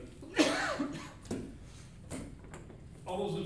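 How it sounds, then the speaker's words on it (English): A man coughs into a face mask during a city council meeting, giving a few muffled, fairly quiet coughs spaced over a few seconds in a quiet room. "coughing into his mask"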